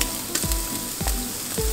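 Shallots frying in a hot pan with garlic for homemade lumpia, a steady close sizzle with a few soft stirring knocks against the pan.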